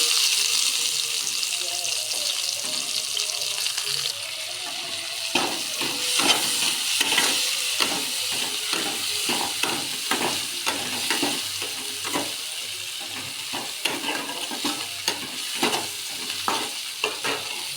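Onions sizzling in a pan for a prawn and poppy seed dish, first a steady fry, then repeated sharp scraping strokes of a spatula stirring them in an irregular rhythm, close and fairly loud.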